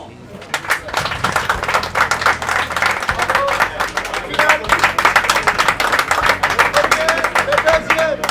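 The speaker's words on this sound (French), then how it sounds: "Applaudissements." Close, sharp individual claps from a smaller crowd at a Chinese boxing gala in Senegal, rhythmic and distinct, with voices talking and calling underneath.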